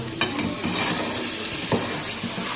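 A spoon or spatula stirs mawa (khoa) in a hot pan for making pedas: a steady close sizzle with repeated scraping strokes against the pan, and no talking.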